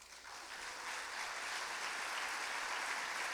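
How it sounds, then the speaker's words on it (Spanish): A church congregation claps steadily together, a dense, even wash of applause that holds throughout and builds slightly, with no voices standing out above it. "¿Podríamos volver a aplaudir al Señor"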